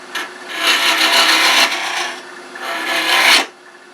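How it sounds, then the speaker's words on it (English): A woodturning tool scrapes steadily against spinning wood while hollowing a wooden cone, in two long rasping passes with a short break between, loud and close with no voices. "remember we're hollowing a cone, so it's getting, I'm hollowing to kind of a point in the middle"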